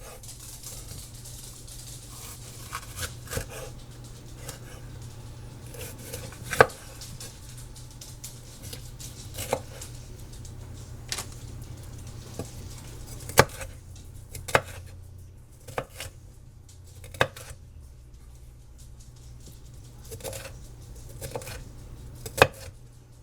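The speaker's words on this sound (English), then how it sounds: "slice them up and get them ready" Knife chops through sausages and peppers on a cutting board for sandwiches, sharp uneven taps and thuds close by over a low steady hum, with a few louder strikes scattered throughout.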